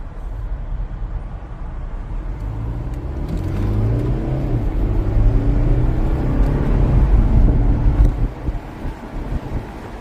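A Mercedes C220 AMG Line convertible's engine hums and rises as it accelerates in Sport Plus mode, with wind rushing past the open cabin, swelling midway then easing off.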